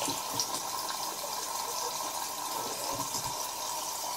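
Tap water runs into a sink during a morning face wash with Ole Henriksen Truth Juice Daily Cleanser, a steady close hiss of flowing water with soft splashes and no talk.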